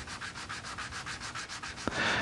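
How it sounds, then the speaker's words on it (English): Wooden snowman-kit pieces have their edges rubbed smooth by hand with 120 grit sandpaper: about a dozen quick, even back-and-forth scratchy strokes up close, then a small knock and a brief shift to a brighter rubbing. "sand the edges smooth using a piece of 120 grit sandpaper"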